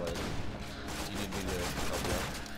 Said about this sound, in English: Ow, he is shooting me, though.